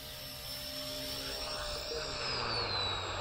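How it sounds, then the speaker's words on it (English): Steady high-pitched whine of a brushless motor spinning on an RC ERA C032 UH-1 Huey model helicopter, with a slowly shifting tone and rotor whoosh, close by and continuous, no talking. "I really love the sound of the brushless motor of this."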